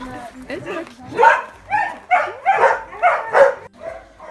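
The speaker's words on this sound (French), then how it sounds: "Là c'est les chiens du chenil." Several dogs bark and yip in a close, echoing kennel, with a person talking over the noise.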